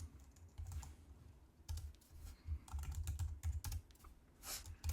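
Computer keyboard keys clatter in quick irregular bursts as a terminal command is typed to install GNU Stow with pacman, close and clear with short pauses between runs of keystrokes.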